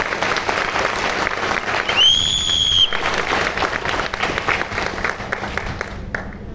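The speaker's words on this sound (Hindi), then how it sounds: "एक बार अपने लिए जोरदार ताली बजाओ जैसे आप सुनना चाहते हो" Audience applause at a business motivational gathering, vigorous and sustained, with a sharp whistle-like tone rising above the clapping partway through before it tapers.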